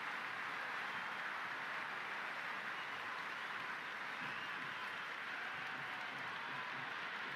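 Virtual stadium crowd in a Cricket 26 T20 match between India and New Zealand, a steady roaring wash of cheering that runs loud and unbroken throughout with no distinct voices.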